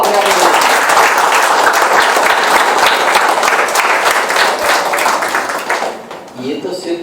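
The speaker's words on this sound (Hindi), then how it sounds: "जोरदार तालियां बजाओ अपने आप" Loud, dense applause from an audience after a Bhagavad Gita play performance, close and sustained, then thinning and fading near the end as a voice begins.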